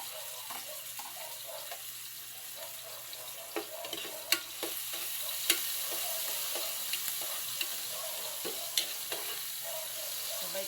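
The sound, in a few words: sautéing garlic and tomato in a pan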